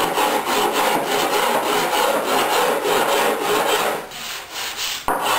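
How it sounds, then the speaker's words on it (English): A rough rasp smooths sharp seam edges on a wooden boat hull, a close, loud rhythmic scraping of repeated strokes that fades slightly near the end. "rasp the rough side, and then finish up with the fine."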